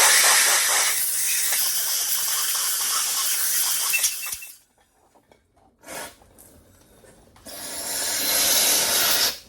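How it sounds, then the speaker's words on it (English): A compressed air nozzle blasts through an aluminum cast part from a 1972 VW Super Beetle in bursts of loud hissing: a long blast, a pause, a short puff, then another strong blast. "This is aluminum cast, so you can blow it out good."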